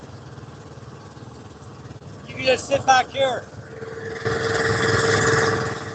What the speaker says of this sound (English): Over the engine. A little noisy.